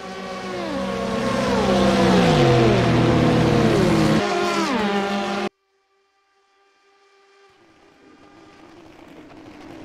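Race cars from the rFactor 2 sim racing game, LMP2 prototypes at Le Mans on the Mulsanne straight, roar loudly with engine pitches sweeping and shifting across the field. The sound cuts out abruptly, then a fainter engine hum slowly builds back.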